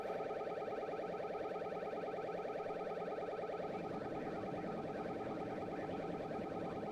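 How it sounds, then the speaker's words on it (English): Cockpit alarm in a flight simulator video game blares continuously, a rapid, even warbling tone that keeps going for several seconds at a steady level. "How are you supposed to do anything with this alarm going off?"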